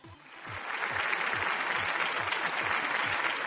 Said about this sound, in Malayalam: നല്ലൊരു കയ്യടി.